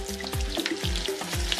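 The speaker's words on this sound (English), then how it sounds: "And you just run it through the butter on the frying pan every time" Frikadeller meatballs fry in butter in a hot pan, giving a steady close sizzle with repeated scraping and stirring strokes roughly every half second.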